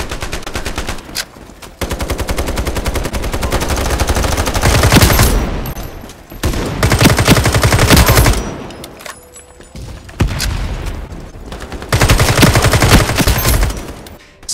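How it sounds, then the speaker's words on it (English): Loud bursts of rapid automatic gunfire in the video game Ironsight, long sustained volleys with short pauses between them; footsteps are not clearly distinguishable. "Steps and gunshots,"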